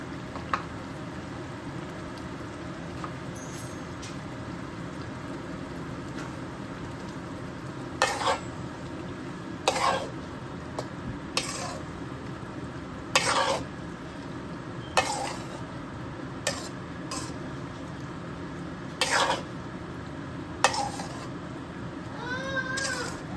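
Ginger and garlic fry for chicken biryani under a continuous sizzle, with repeated sharp scrapes of a spoon stirring the pan every second or two.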